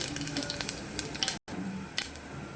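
Cumin seeds sizzle in hot oil with garlic, giving a steady close crackle with a brief silent gap midway and a few light stirring sounds scattered throughout.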